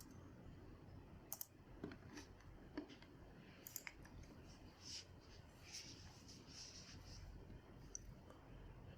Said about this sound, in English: Now we'll type our formula again.